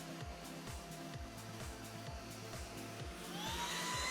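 A FEPPO 30KPa cordless vacuum cleaner runs in auto mode, a steady faint motor whine with a rapid pulsing hum that rises in pitch near the end as suction ramps up.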